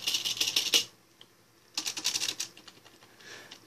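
Typing on a quiet, non-mechanical vintage computer keyboard, heard as two short bursts of rapid, soft keystrokes separated by a pause, then a few lighter taps, close and clear.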